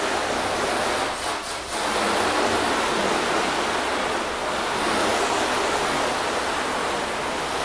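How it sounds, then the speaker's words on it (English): A water hose rinses a washed car, giving a loud, steady, close rush of spraying water that runs unbroken throughout with only a brief dip near the start. "Let's rinse it off."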